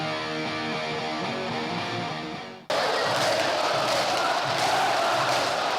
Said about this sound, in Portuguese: chegou o vídeo da comemoração da torcida do Vasco